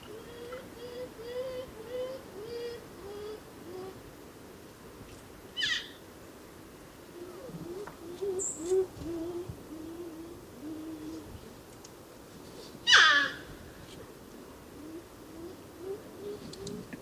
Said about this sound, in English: This bird just squawking and squeaking